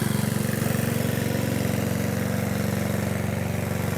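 A gasoline internal combustion engine running on gasifier syngas with no load while driving an alternator idles steadily, its loud, even low throb chugging without a break.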